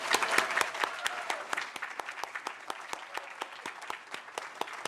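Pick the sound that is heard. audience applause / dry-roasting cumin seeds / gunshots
audience applause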